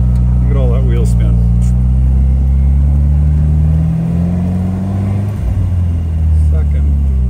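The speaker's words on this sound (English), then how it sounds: "Look at all that wheel spin." A 1956 MGA sports car accelerates hard with wheel spin, its engine note rising and steady, loud and close throughout, with a voice briefly heard over it near the start.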